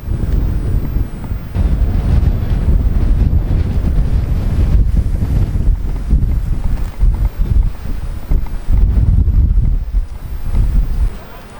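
Strong coastal wind at the Peggy's Cove lighthouse in Nova Scotia buffets the microphone in heavy, low gusts, with surf faintly underneath and no talking.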